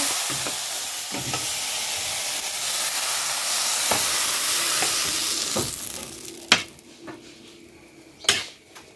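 Okra fries in a pan with a loud, steady sizzle, broken by a few sharp clinks of a utensil against the pan toward the end.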